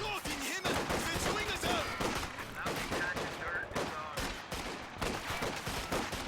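A .50 cal machine gun fires in a World War II style video game match, with rapid bursts and scattered gunfire layered over a busy battle soundscape and faint commentary.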